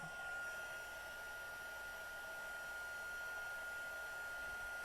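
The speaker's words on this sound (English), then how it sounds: "it goes much faster the second coat because the heat tool is all" A heat tool blows hot air onto cardstock for a tile backsplash craft technique, giving a steady, close, even whooshing hum with a faint high whine and no pauses.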